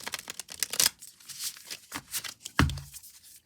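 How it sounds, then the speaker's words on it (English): Tarot cards being shuffled close up in a few quick riffling bursts, ending with a soft thump as the deck is squared. "So let's shuffle up the wandering star and see where this is going"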